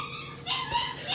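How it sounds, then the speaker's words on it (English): Puppies yip several times in quick, high-pitched bursts, fairly close but not loud, over a quiet indoor background with no talking. "Puppies hear me talking, so they're going to yip-yap."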